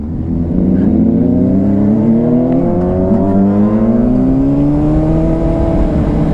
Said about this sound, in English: Oh, he is on a dirt bike.